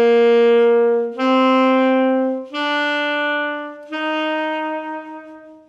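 A saxophone plays four sustained, clean notes one after another, each held for over a second, the pitch stepping between notes as fingering changes, close and clear with no voices.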